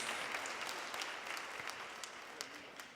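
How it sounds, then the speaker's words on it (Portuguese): A church congregation claps with raised hands, a faint, distant patter of applause holding steady with a few sharper claps. "Levante as suas mãos e bata palmas para Jesus com suas mãos levantadas, erguidas."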